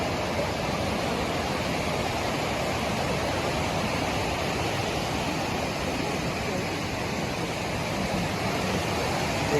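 Steady broadband rushing of water flowing near a Hindu temple shrine in the Hailuogou glacier area, a continuous close wash with no breaks, loud and even throughout.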